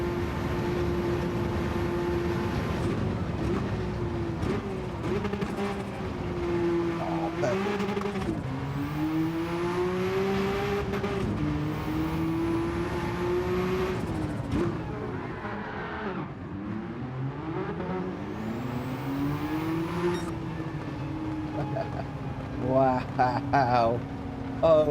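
Race car engines roaring in Gran Turismo 7 or Assetto Corsa Competizione, revving and shifting through gears with rising and falling pitch, steady and loud throughout, with a voice talking over the engine noise.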